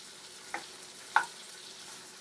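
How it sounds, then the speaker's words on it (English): Meatballs for Swedish meatballs browning in a frying pan give a faint, steady sizzle, broken by two sharp utensil clicks about half a second apart. "And I'm just browning these off."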